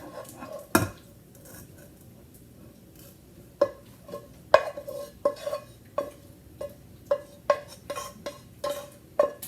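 A spoon scrapes and clinks against a pan while ground beef and beans are stirred, sharp metallic taps recurring roughly every half second after a quiet stretch, with a low sizzle underneath.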